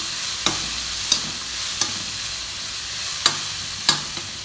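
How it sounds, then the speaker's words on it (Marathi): Moth beans (matki) and onion sauté in a pan, a constant sizzle punctuated by about six crisp spatula strokes at irregular intervals, close up with no voices. "आता मटकी टाकून घेऊ. मटकी परतून घेऊ."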